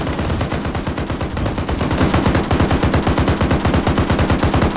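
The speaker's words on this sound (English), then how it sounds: "Open fire?" Rapid automatic gunfire in a shooter video game, dense sustained bursts of fast regular shots that grow heavier partway through and continue loud and close to the end.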